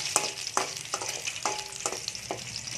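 Green chillies frying in a hot pan, a steady close sizzle broken by several sharp stirring scrapes at regular intervals, with no voices.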